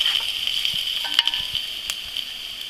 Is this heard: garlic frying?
yes